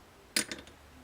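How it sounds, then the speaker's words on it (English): A bone acoustic guitar bridge saddle taps or drops onto a hard surface with one bright click followed by a couple of quick small bounces, close up and quiet. "Okay, here's a bone saddle."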